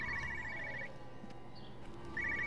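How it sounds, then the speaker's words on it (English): An in-game telephone in Everybody's Gone to the Rapture rings in two short trilled bursts, one at the start and one near the end, over a steady ambient hum with no talk. "I hear another phone."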